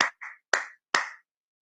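Three or four short bursts of clapping from a church congregation, each separated by brief silences, fairly close and moderately loud, with no talking.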